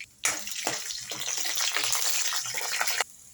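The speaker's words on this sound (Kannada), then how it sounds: "ಶುಂಠಿ ಮತ್ತು ಬೆಳ್ಳುಳ್ಳಿ, ಇವಾಗ ಇದನ್ನು ಸ್ವಲ್ಪ ಫ್ರೈ ಮಾಡೋಣ" Pepper, ginger and garlic fried in a pan, a loud, steady hiss that starts abruptly and holds for about three seconds before cutting off, close and alone.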